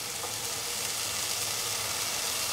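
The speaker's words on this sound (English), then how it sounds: "Heat the pan and put in the Gourd pieces." Ash gourd pieces fry in a hot pan with a continuous, even sizzle, close and steady throughout.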